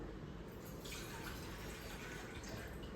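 Steady, quiet rush of water pouring into a pot for a few seconds while cooking chicken biryani, even and continuous without breaks, no voices.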